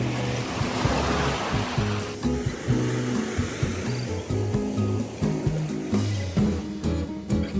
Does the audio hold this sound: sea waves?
yes